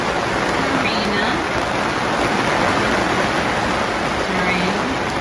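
Steady heavy rain from a thunderstorm pours over a boat docked at a river marina, a dense continuous hiss filling the scene, with faint voices briefly audible beneath it.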